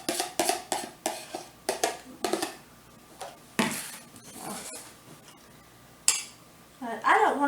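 Crab pieces are cut on a plate with cutlery, giving a run of crisp clinks and scrapes of metal on china in an uneven rhythm, with a short pause partway through, then more clatter.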